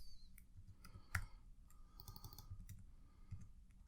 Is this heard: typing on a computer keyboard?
yes